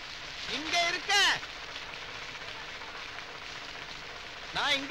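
Steady rain hisses throughout at a moderate level, with a few short voiced sounds rising over it near the start and end.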